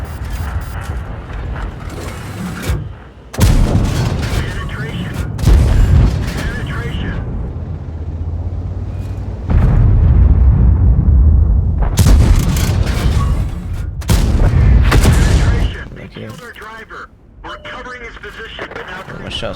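Heavy booming tank cannon shots and rumbling engine and mechanical noise in World of Tanks, several loud blasts spread across the stretch, with someone talking over parts of it.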